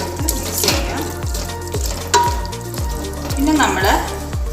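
Beef biryani masala is stirred in a sizzling pan, giving rhythmic scraping strokes about once a second over steady frying crackle, close and fairly loud.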